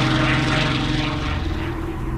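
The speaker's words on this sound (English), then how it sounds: "its remarkable aircraft, the Spitfire, with its Rolls-Royce engine, one of the best fighter planes in the world" A Spitfire fighter plane with a Rolls-Royce engine drones steadily overhead, its propeller engine holding a loud, continuous roar that eases only slightly toward the end.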